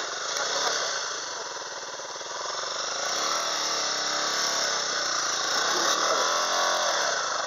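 An off-road motorcycle engine runs on a steep, slippery forest trail, a steady close drone with slight rises and dips in revs and no voices.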